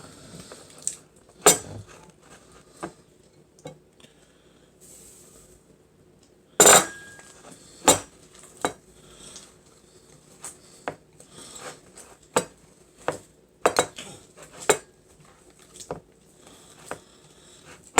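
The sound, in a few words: mixing seasoning into softened butter in a bowl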